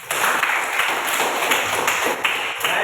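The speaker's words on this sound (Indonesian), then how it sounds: "Tepuk tangan untuk Cika" Schoolchildren in a classroom applauding a classmate during a math lesson, a short burst of brisk, bright clapping from many small hands, close and lively, sustained for a few seconds.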